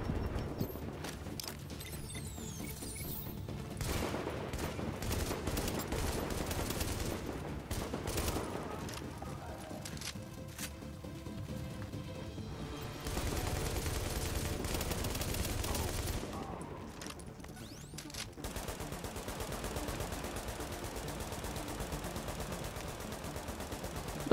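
Rapid bursts of gunfire in The Division video game, repeated volleys crackling through much of the stretch at moderate level with a few brief lulls.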